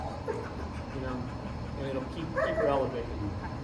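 A dog on a lead lets out a few short whimpers and yips, moderately close, mixed in with ongoing background noise and indistinct voices.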